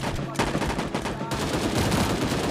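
Rapid automatic gunfire in the shooter game Sausage Man, dense bursts of shots that drop out briefly before resuming, loud and close.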